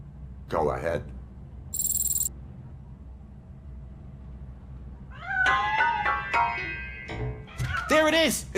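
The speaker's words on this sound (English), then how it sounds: "That cat must be hiding inside." Cat meowing from inside a piano in the Robocop: Rogue City video game: a short meow early on, a later pair of rising meows and a final insistent cry, over a low game ambience with a brief high chirp.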